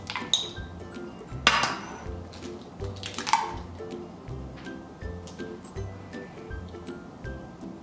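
Two eggs are cracked for homemade ramen noodle dough, giving two sharp, bright taps a couple of seconds apart over a soft, rhythmic thumping with faint clinks of dishes.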